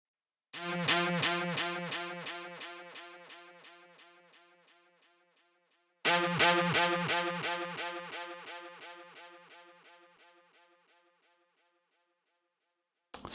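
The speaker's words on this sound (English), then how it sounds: "unison sine wave being FM'd by a saw wave with this bandpass being automated." A synth lead built from a unison sine wave frequency-modulated by a saw wave, played through an automated bandpass filter. It pulses in rapid, evenly spaced stabs that fade away, then restart for a second identical decaying run.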